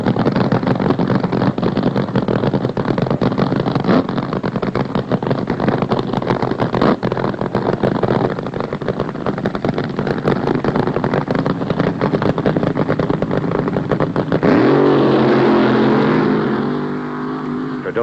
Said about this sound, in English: The burnout. That's what the crowd loves. Noise and tire smoke and the fire from the engine exhaust.